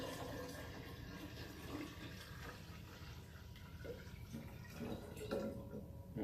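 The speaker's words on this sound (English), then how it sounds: "And then you add your water." Water runs and splashes steadily into a container, a continuous liquid gush with faint dripping, moderately close and without voices.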